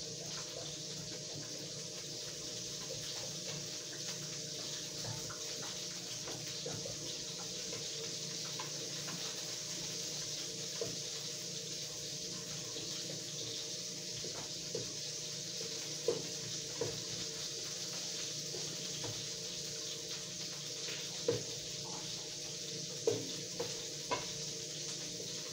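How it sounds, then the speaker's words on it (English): Hamburger macaroni and cheese being stirred in a pan, a steady soft sizzle with scattered scraping clicks of the spoon against the pan, continuous and moderately quiet throughout. "Then we'll stir this up."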